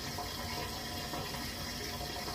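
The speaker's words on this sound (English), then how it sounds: "we're running full pressure down and the water is draining" Water runs at full pressure down a washing machine drain in a plumbing repair, a steady, dense rushing and gurgling wash that continues without a break and without voices.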